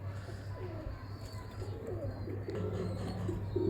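Pigeons, including a Teddy pigeon paired with a female, coo softly in low throaty rolls over a steady background hum, faint and fairly distant, with a few higher chirps mixed in.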